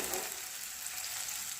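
Onions frying in mustard oil for a local chicken curry, a brief steady hiss of sizzling oil close by, with no distinct stirring or voices.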